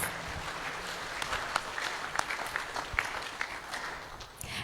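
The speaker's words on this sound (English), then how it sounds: "Let's give them a round of applause." A temple congregation at a Sunday love feast gives a round of applause, a moderate, steady patter of many hands, fairly distant, tapering slightly near the end.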